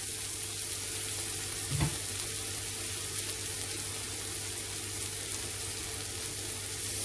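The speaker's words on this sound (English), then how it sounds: "Once the onions have softened, add your spices." Softened onions and spices fry in a pan with a steady, even hiss and sizzle close by, plus one brief soft knock, and no talking.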